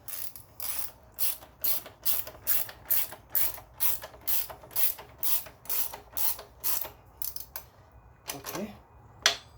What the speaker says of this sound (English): Now all you need just to retie this bolt and nut, which is the 17 and 14 millimeter